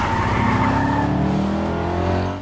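A car speeds off with tires skidding and squealing in a TV comedy chase scene, a loud sustained screech over a revving engine that fades slightly at the end, with no talk.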